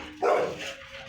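A single short dog bark from a village street, sharp and fairly close against faint background noise.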